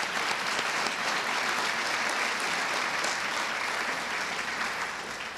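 An awards ceremony crowd honoring high school volunteers breaks into sustained applause, a dense, loud wash of clapping that holds steady for several seconds and tapers slightly at the end.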